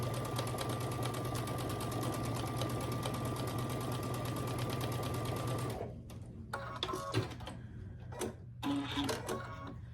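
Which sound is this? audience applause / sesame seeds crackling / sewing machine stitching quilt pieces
sewing machine stitching quilt pieces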